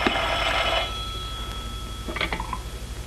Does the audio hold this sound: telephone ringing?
yes